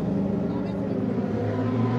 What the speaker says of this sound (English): So the engine fires up then